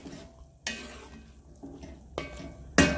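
Rinsed, drained beans and herbs are tossed in a pot, giving a few separate wet scraping stirs with soft clatter, close by and quiet between strokes.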